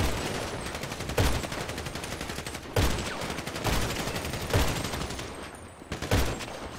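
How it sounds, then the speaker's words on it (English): Sniper rifle shots in GTA 5 ring out as sharp, heavy cracks about every one and a half seconds over a dense backdrop of constant rattling gunfire. "I'm just gonna shoot him with my sniper"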